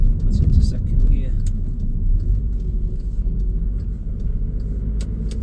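A Volkswagen Transporter 2.0 TDI T30 van drives along an industrial estate road and shifts into second gear, with a steady low engine and road rumble heard from inside the cabin while someone talks over it.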